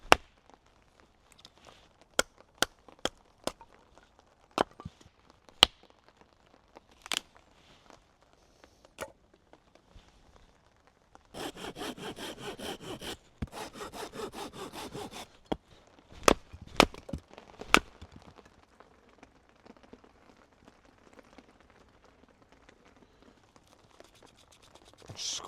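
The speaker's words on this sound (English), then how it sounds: "But I'm up, process a load of firewood." Firewood being split and processed at a rainy campsite, sharp woody cracks and chops landing in irregular bursts, with a dense run of rapid splintering snaps in the middle, fairly close and otherwise quiet between strikes.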